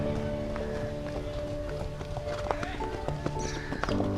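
Racehorse Storm Trigger trotting on freshly fitted shoes, a steady run of hoof clip-clops over a busy background with a brief whinny-like tone partway through.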